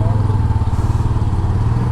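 A Honda Dio scooter carrying two riders on a road trip to Ananthagiri Hills, its engine droning steadily and close by with road and wind rumble throughout.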